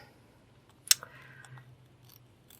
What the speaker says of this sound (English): I'm going to take my scissors and cut all the way around.